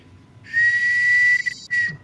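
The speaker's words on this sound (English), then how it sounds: "Blowing on my weenie whistle." A small toy whistle is blown in two shrill, steady blasts, the first held for nearly a second, a brief break, then a shorter second blast, loud and close with no talk.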